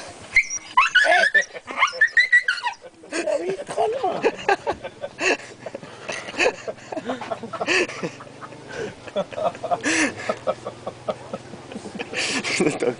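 A dog teased by a monkey whimpers, yips and cries in repeated high plaintive bursts close by, while people talk over it throughout.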